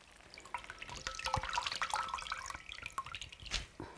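Water splashes and drips in quick, uneven spatters as rinsed dried pollock is squeezed out by hand over a kitchen sink. The sound is close and moderately loud, with no voice.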